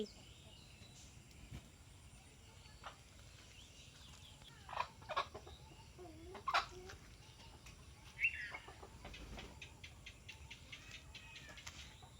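Free-range laying hens clucking outdoors on a rural homestead, scattered soft clucks and brief wing flaps at moderate distance over a quiet background, no talk.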